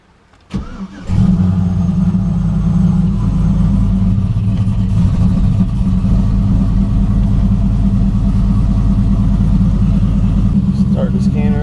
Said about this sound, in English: So I'm gonna do a cold start right quick, and then we'll go for a little ride.